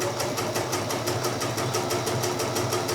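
Bernina sewing machine fitted with leather roller foot #55 stitching steadily, a fast, even mechanical chatter at a regular rhythm, close and continuous throughout with no talk.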